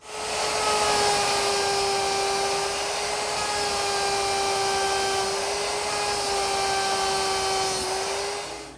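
A router fitted with a 1/4-inch roundover bit cuts a bead detail along a wooden drawer front, a loud, steady high-pitched motor whine with a constant tone that holds for the whole stretch before tapering off.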